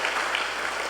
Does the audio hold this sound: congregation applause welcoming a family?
yes